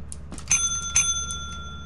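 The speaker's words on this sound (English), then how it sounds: "Can you ring the bell again, Kevin? Like, just keep ringing it." A bell in the game Lethal Company rings twice in quick succession with bright, sustained metallic tones, plus a few lighter dings around it, close and clear with no talking.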